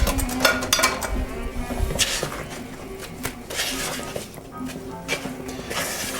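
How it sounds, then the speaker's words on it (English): Cake batter for a hot fudge pudding cake beaten by hand in a bowl, with repeated clinks and scrapes of a utensil against the dish in an uneven rhythm throughout. "And now this we take and beat this until it's smooth."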